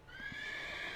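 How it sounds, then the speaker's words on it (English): A short horse whinny rings out steadily and fairly close, a sustained bright neigh with faint thuds beneath it. "we're going to have one more effusive horse sound"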